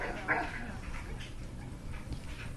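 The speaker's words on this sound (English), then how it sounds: "So you can hear Beau barking a bit." A dog named Beau barks and yips off to one side at another dog during leash training, giving a few short, muffled barks against steady outdoor background noise.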